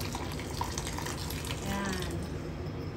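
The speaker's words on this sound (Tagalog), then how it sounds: "Hot water na yung ilalagay natin. Para mabilis kumulo." Hot water is poured into a cooking pot for chicken sotanghon soup, a steady, fairly close splashing and gushing stream that continues throughout.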